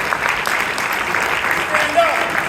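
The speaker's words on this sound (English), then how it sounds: "Let's give them a round of applause," An audience applauds a panel at a barbershop session on success habits, steady dense clapping that holds for a few seconds, with voices faintly mixed in.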